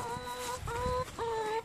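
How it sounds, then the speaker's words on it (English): Chickens roaming half of a front yard instead of a coop cluck three times, each call a short, drawn-out, tonal note, close and clear against quiet background. "here are the chickens"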